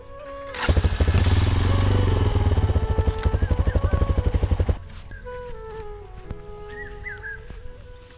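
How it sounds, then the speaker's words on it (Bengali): A motorcycle engine revs loudly and steadily up close, chugs down and cuts out partway, leaving quieter background with faint distant sounds. "বাইকটা সাইড করে একটু।"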